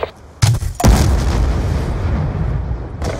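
Call of Duty war machine grenade launcher explosions: a loud, close boom strikes, then a second heavy blast rolls into a long, deep rumble that fades slowly.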